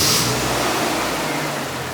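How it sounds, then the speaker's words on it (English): A Nissan 240SX engine, just put back together with the battery reconnected, runs loud and steady through the whole stretch, a continuous mid-pitched roar close by with no voices. "I will say it's always a little relieving when the car starts"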